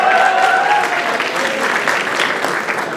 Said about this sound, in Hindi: एक बार वैभव के लिए ताली हो जाए।